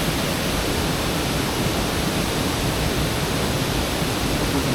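Wang Bo waterfall in Thailand gives off a steady, loud, unbroken roar of falling water, filling the whole clip evenly with no voices.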